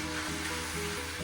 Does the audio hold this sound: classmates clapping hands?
no